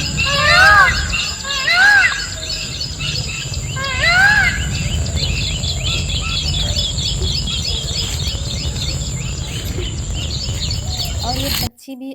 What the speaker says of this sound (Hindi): और ये पक्षी भी अपनी धुन में आज गा रहे थे।